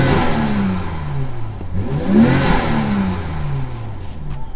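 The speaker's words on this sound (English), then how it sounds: "let's rev it and see." A car engine fitted with a BMS aluminum air intake and heat shield revs up close, its pitch rising and falling in a couple of swells over a steady idle rumble.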